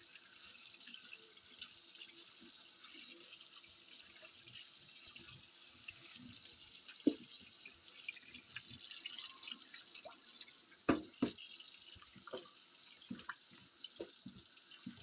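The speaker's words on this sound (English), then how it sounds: "I've added a little bit of vinegar in the water and just rinse them off, get them cleaned up" Pork pieces rinsed by hand in water with a little vinegar at a sink, with steady running-water hiss and scattered drips and splashes, close and moderately loud throughout, no talking.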